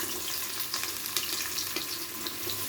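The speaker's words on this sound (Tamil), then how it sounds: "இப்போ ஆயில் நல்லா கொதிச்சு பின்னாடி வெங்காயத்தை போடுறோம்." Chopped onions frying in hot oil give a steady, close crackling sizzle with small pops throughout, and nobody speaks.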